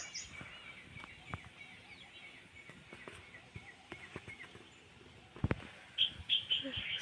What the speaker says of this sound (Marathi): सकाळी सकाळी इतके छान पक्षी ओरडत आहे ना